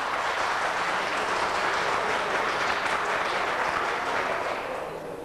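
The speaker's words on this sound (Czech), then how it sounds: "Tak prosím, nechte tleskat tribuny." Steady, dense applause from the public gallery of the Czech parliament fills the room at full volume, then eases off slightly at the end.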